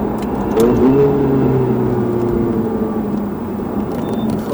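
A Ferrari 488 GTB drives laps on a race track, its engine a loud, steady drone with a rising tone that holds close and continuous throughout.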